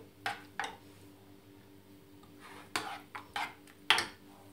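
Zucchini tart filling with grated cheese and eggs is mixed in a bowl, giving a few sharp utensil clinks and scrapes spread across a quiet background.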